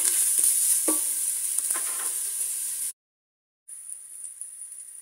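Ginger and garlic sizzle in a tablespoon of hot oil while being stirred for corn tomato soup, a steady bright hiss with scraping stirs, briefly cutting out to silence before the sizzle resumes, no talking.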